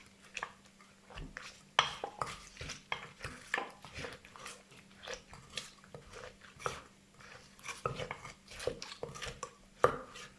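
Thai papaya salad, som tum, is pounded and mixed with tomato, lime juice and sugar in a mortar at a street food stall. Soft, irregular thuds and wet knocks sound close and fairly quiet.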